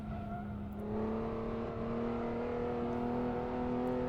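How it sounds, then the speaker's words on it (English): A Jaguar-engined 1960s GT race car in the Assetto Corsa driving game, its engine a steady, rising drone under gentle acceleration with faint tyre noise and no talking. "Jaguar engine just sounds so good"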